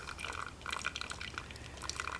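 Starchy pasta water poured off from a metal canteen cup during camp cooking, a steady splashing trickle with bright drips, close and fairly quiet, with no talking.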